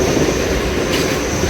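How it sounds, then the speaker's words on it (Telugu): A goods train loaded with coal runs on the parallel track, heard from a passenger MEMU train. The wheels and wagons make a loud, steady rumble and rattle with no break. "goods train parallel running"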